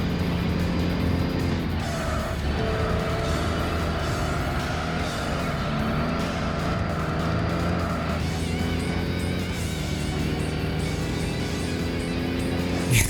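A Legacy wagon racing in the video game Tokyo Xtreme Racer Zero: a loud, continuous engine roar with rising and falling pitch, and a sustained whine that suggests tire squeal through a corner.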